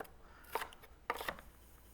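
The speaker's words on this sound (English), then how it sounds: "We're going to cut into cubes." A knife cuts a yellow pepper into cubes on a cutting board, giving two short crisp chopping bursts about half a second apart, close and fairly quiet, with no talking.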